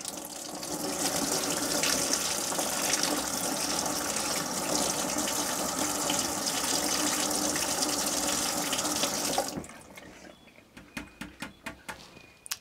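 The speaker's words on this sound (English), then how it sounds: "Give it a rinse." Water runs from a tap over seeds in a sink, a steady loud gush that fills most of the clip, then stops abruptly, leaving a few faint drips and small clatters.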